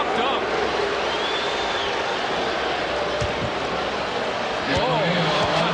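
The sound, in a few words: basketball arena crowd reacting to a tomahawk dunk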